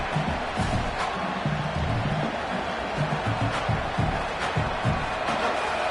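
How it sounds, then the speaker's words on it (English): A college football stadium crowd roars steadily on a defensive stand, a dense, continuous wash of noise with faint talk underneath. "The roar of the crowd trying to fuel this defense to keep them pinned in their own end"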